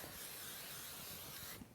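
505 temporary adhesive spray hissing from an aerosol can onto embroidery stabilizer, one continuous close spray that cuts off sharply near the end.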